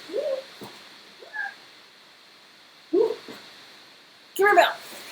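A skittish, scared cat gives several short, separate meows spaced a second or two apart, fairly close against a quiet indoor background.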